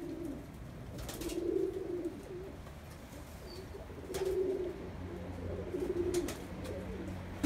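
Pigeons in a coop coo in low, soft rolling phrases that swell and fade several times, with faint rustling and background sounds around them.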